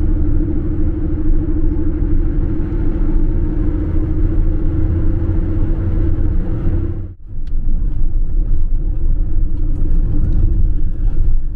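A car drives along a road between towns, its engine a steady loud low rumble with tyre roar from inside the cabin, briefly dipping once before resuming the same drone.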